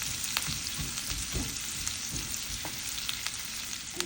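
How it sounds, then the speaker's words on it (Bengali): Chopped onions frying in a pan until brown, a close, steady crackling sizzle with occasional louder pops and stirring scrapes, no voices. "পেঁয়াজ কুচি দিয়ে দিলাম দিয়ে এখন এটাকে আমি একটু ব্রাউন করে ভেজে নেবো"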